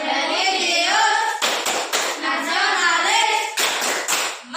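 Schoolchildren in a classroom chant in unison while clapping a rhythmic pattern, their voices loud and continuous with sharp hand claps punctuating the chant.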